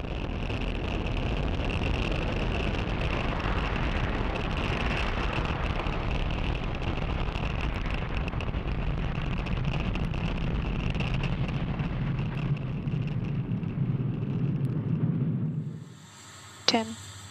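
A rocket engine roars during launch ascent in a loud, steady broadband rumble that holds for about sixteen seconds, then cuts off abruptly, leaving a brief faint tone at the end.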